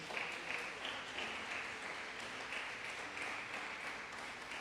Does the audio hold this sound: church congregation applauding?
yes